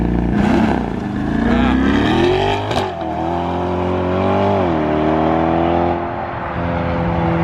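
A 2020 Shelby GT500 launches hard from a standstill, its engine roaring loud and close as revs climb and shift through gears, with voices talking inside the car over the steady rising drone.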